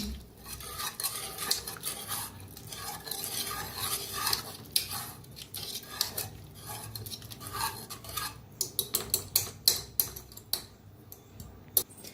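Cooked shepu (dill leaf) vegetable stirred in a pan with a utensil, a steady run of scraping and clinking that turns into sharper, repeated metallic taps toward the end, with no talking.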